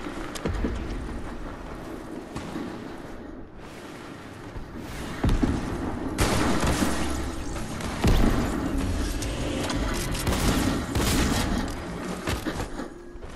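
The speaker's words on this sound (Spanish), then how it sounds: "Sí, es un disparo de este lado" Weapon fire and explosions in a Fortnite team battle, loud and continuous, with heavy bursts and booms repeating throughout and swelling in several stronger volleys toward the end.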